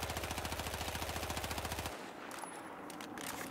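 A weapon in the video game Battlefield 4 fires a rapid sustained automatic burst of evenly spaced shots for about two seconds, then cuts off into fading echo and faint ambient game noise.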